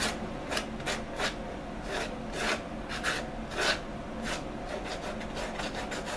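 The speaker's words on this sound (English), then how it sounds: "bovine hide is relatively thick, it can take a bit of sanding" Cowhide leather being sanded by hand, heard as a dozen or so short, dry rasping strokes in an uneven rhythm, close and fairly quiet over a low background hum.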